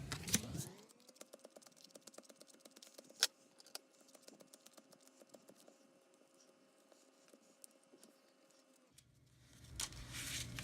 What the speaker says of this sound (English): what I'm going to do is going to pile shuffle this time